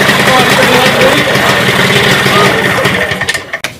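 A motorcycle engine, started after being pushed, idles loudly and steadily at close range, then sputters and cuts out in uneven bursts near the end.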